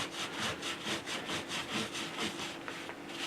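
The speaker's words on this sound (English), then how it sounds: "Now I am rubbing hard, but it's only taken me a few minutes" Hand rubbing down a model's surface, a close rhythmic back-and-forth scrubbing of about a dozen even strokes, steady and fairly soft with no voices.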